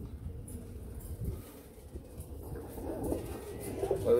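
Pigeons coo softly in a loft, low murmuring calls repeating over a steady background, growing slightly louder toward the end.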